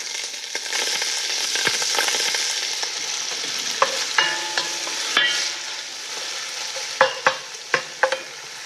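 Leeks with garlic sizzle steadily in a pan, a continuous frying hiss broken by several sharp knocks and scrapes of a utensil stirring them.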